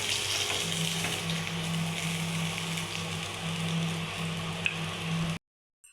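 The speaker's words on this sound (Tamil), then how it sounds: "ஒரு சைடு வெந்துடுச்சு இன்னொரு சைடு திருப்பி போட்டுக்கலாம்" Sea fish frying in an oil-filled pan gives a steady, close sizzle with a faint crackle. The sizzle runs for about five seconds and then cuts off abruptly.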